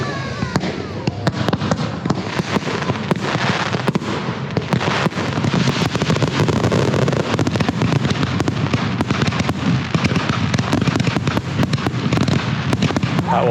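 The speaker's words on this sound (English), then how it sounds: "it was soon time to watch the fireworks." Fireworks display at an outdoor bonfire night, with a dense, continuous barrage of crackling bursts and booming pops that stays loud and relentless throughout, no single blast standing out from the roar.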